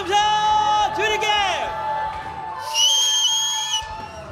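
A church congregation at a New Year revival worship service shouts and whistles in praise. Loud sharp whistles rise over a continuous crowd roar, and sung or spoken voices carry throughout.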